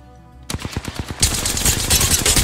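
Rapid automatic gunfire in the shooter game Apex Legends: a burst of sharp shots, loud and close, quickly building into dense sustained fire with overlapping reports.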